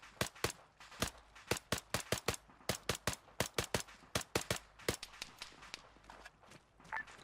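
Gunfire in a military video game, heard as a long run of sharp, evenly spaced cracks in quick bursts, moderately close and with no talk over them.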